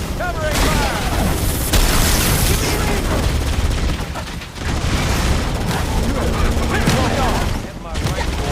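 Dense gunfire and explosions from Halo: Campaign Evolved fill a chaotic battle, rapid bursts and booms layered over shouted voices, loud and continuous with brief dips.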